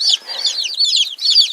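Young chicks, including barred rocks and buff Orpingtons, chirp loudly and close by in quick, high, overlapping peeps with short breaks between bursts.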